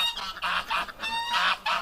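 Muscovy ducks give a quick run of four or five honking, hoarse calls, close and fairly faint.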